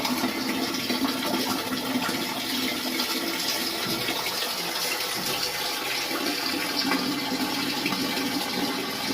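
Water pumped straight up from a tube well by a solar jet pump gushes out in a loud, continuous rushing flow close by, steady from start to finish.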